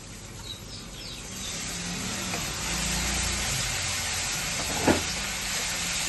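Water added to frying spice masala for a prawn and banana flower dish, a steady sizzling hiss that rises and holds, with a brief sharp crackle near the end.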